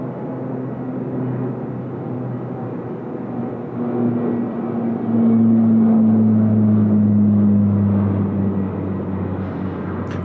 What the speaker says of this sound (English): 870 off to San Francisco in the Star Alliance Get Up, departing now, runway 34 left